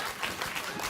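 A studio audience at a late-night talk show applauding, a brief, dense wash of clapping that stays steady and loud throughout.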